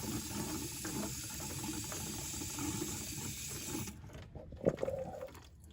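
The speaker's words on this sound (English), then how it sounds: "now I'm putting this cooler flush through here and it's really filling this thing up" Burnt transmission fluid and cooler flush gush through a car's transmission cooler line into a catch container, a steady loud hissing, splashing flow that cuts off abruptly, followed by a few faint drips and clunks.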